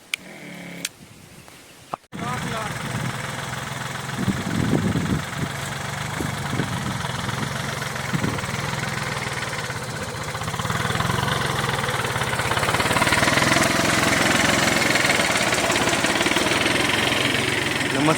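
A homemade spray pump with a 60-litre tank drones steadily while feeding two nozzles, a constant mid-pitched engine hum with a slight knock. It starts after a brief quiet, handled start and grows a little louder partway through.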